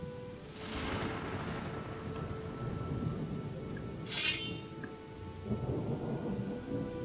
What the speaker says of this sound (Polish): Znowu deszcz pada w grze.